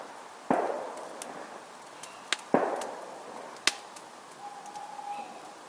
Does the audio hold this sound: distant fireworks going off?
yes